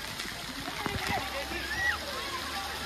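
Water splashes and sloshes continuously at an outdoor water park, with people talking and laughing close by over the steady wash of water.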